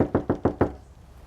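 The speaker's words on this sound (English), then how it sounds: "Whoa, that's a powerful knock." Four heavy, evenly spaced knocks on a door, close and loud, followed by a short quiet tail.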